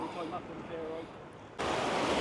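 Sea waves roaring at the shore, a low rushing wash that swells into a louder, broader surge partway through, with wind on the microphone and faint voices.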